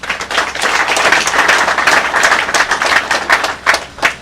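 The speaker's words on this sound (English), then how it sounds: "a round of applause." Close, loud clapping from a group of senior officers during a police command visit in Bayelsa State, a brisk round of hand claps with distinct individual slaps that tapers into a few last claps.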